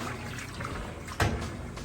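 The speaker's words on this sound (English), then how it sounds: "it's doing an excellent job getting started with the agitation" Whirlpool Amana top-load washer agitating clothes in water, a steady churning swish with one brief louder slosh near the end, moderately faint and heard alone.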